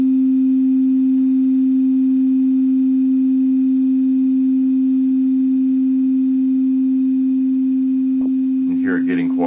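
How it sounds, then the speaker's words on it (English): A single held synthesizer note, a pure steady sine-like tone, sustains loud and even for several seconds, then is cut off with a brief burst of noise at the end. "If you just hold that note out forever, it'll eventually go all the way down to 0."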